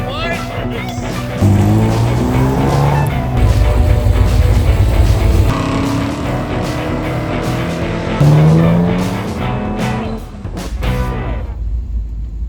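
Vintage race cars at the Mount Tarrengower Hillclimb, loud engines revving hard and shifting through gears close by, with rising and falling engine tones, tyre squeal and sharp cracks throughout.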